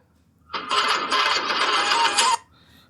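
A bright electronic mobile phone ringtone melody plays steadily for about two seconds, alone and fairly loud, then cuts off abruptly.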